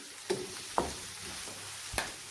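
A few soft stirring scrapes sound at an unhurried pace over a faint sizzle as ground sweet red pepper, salt and spices are moved around a frying pan.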